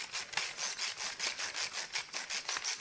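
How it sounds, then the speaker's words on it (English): Black pepper ground in a hand pepper mill, a close, crisp rhythmic crunching and rasping with about a dozen even twists in quick succession, no voices. "I just got one of these pepper mills, and that's how I grind them up."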